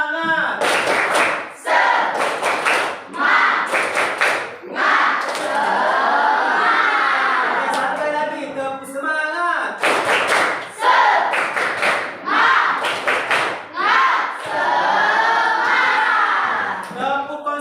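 Classroom of students doing a rhythmic spirit clapping chant, loud clustered bursts of claps in patterned beats alternating with group chanting voices, repeated in several rounds.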